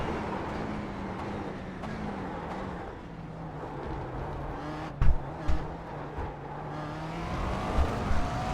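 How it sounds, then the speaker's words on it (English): Race car engine in the iRacing sim racing game, droning steadily up close and then revving in several short throttle stabs near the end. "Few stabs of the throttle."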